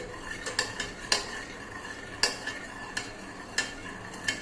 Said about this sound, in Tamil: இது அப்படியே கரண்டியால் நல்லா மசிச்சு விட்டு